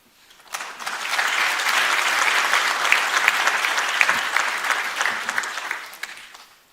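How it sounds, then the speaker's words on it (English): A large conference audience at the opening session of a national space conference breaks into dense, sustained applause that swells quickly, holds steady, and tapers off at the end. "Another round of applause for Dr."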